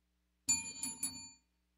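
A bicycle-style bell is struck three times in quick succession, bright ringing tones with a shimmering decay, sounding fairly close and clear with no talk over it.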